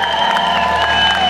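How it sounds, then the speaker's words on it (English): A concert audience at a live show on a Northern Light tour cheers and applauds, a dense, steady crowd roar with sustained tones running underneath throughout. "Give them a big cheer."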